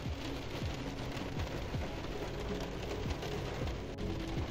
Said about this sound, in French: il pleut à plein temps, il y a de l'orage